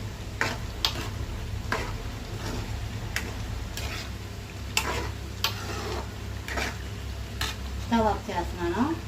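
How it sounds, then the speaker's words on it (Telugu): Paneer kurma is stirred in a pan with herbs, a steady soft sizzle broken by a series of periodic spoon scrapes and clinks, with brief speech underneath. "ఒకసారి కలుపుదాం."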